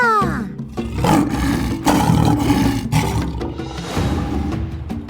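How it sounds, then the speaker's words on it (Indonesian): A lion gives a deep, powerful roar, loud and close, with a rough rumbling tone that swells and pulses over several seconds without a break. "suara singa."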